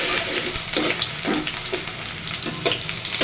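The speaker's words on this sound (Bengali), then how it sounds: "আলুটা ভেজে তুলে নিব, তারপরে পনিরটা ভাজবো।" Potatoes fry in a pan with a steady, close sizzle and crackle, broken now and then by soft stirring scrapes, with no one talking.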